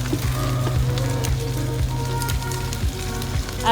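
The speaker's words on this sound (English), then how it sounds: "after we add the eggs, we kind of just leave that to let it cook and stir it every once in a while" Eggs sizzling and frying in a pan over a campfire in the woods, a close, steady crackling hiss with a low hum running underneath and occasional pops.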